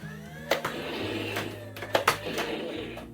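Motor of a Hasbro Nerf Star Trek Phaser Rifle Type 3 toy running, a low mechanical whir that shifts pitch in steps, broken by several sharp clicks and clacks, close and fairly quiet.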